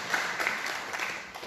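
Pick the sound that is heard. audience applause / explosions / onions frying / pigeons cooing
audience applause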